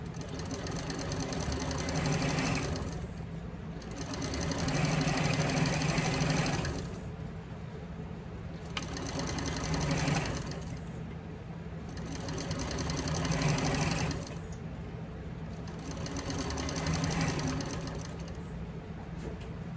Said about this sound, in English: top stitch at 1/8 of an inch all the way around